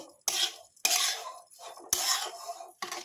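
Grated coconut is stirred with jaggery and sugar in a pan, with four loud bursts of scraping strokes separated by short pauses.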